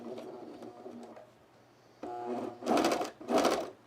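A home sewing machine runs in bursts while its foot pedal is stuck, stitching cargo pants; a softer stretch of motor whir is followed by two loud, fast buzzing surges close by, with no talk.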